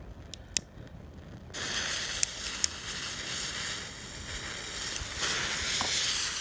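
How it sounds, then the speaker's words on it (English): Steady dense crackling and sizzling hiss from a 4-inch Gemstone Fireworks crackling lava fountain, starting after a few sharp pops and holding strong to the end. "this is a quick demo of the 4-inch crackling lava by Gemstone Fireworks"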